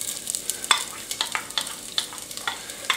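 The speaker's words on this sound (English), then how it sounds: "In the saucepan, I have got some olive oil, just plain old olive oil. You don't have to use anything fancy. And I'm throwing in one onion" Diced onion fries in plain olive oil in a saucepan, giving a steady close sizzle. Sharp clicks of a utensil stirring against the pan come roughly every half second, and no voices are heard.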